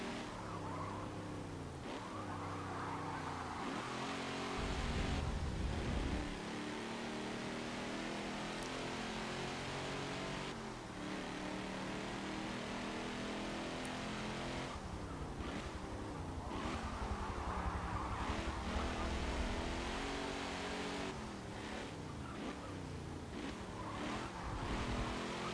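Late-1960s to early-1970s muscle cars, a Dodge Daytona and Charger, race in Forza Motorsport 7, their engines rumbling loudly and shifting through gears again and again, with a few brief tyre skids over a long steady run.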